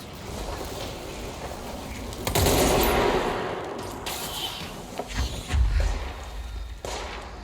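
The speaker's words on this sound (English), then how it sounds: "Someone else was shooting at me." Gunfire in the video game Control: a dense, loud burst of shots and impacts swelling around the middle, with scattered thuds and sharper cracks before and after, no speech.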